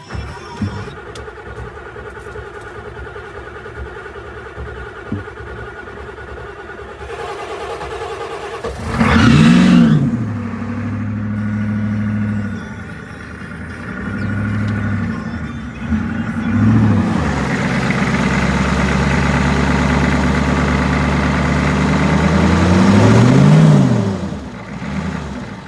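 A 1987 6.9 IDI diesel 4x4 cranks and fires up, then revs in several rising and falling surges before settling into a loud, rough, unsteady idle, close by with no talk.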